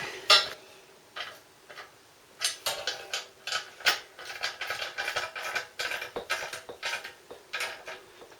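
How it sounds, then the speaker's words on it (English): A ratchet tightens bolts on a motorcycle bracket for a Triumph project, making quick bursts of clicking, metallic ratcheting strokes in an uneven rhythm, close by and fairly quiet. "that's bolted everything up nice and tight"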